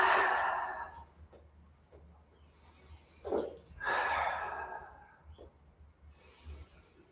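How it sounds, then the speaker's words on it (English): Audible breaths during a slow flow yoga session: a long exhale and sighing breaths come close and soft, with pauses between them and a low hum underneath. "And breathe."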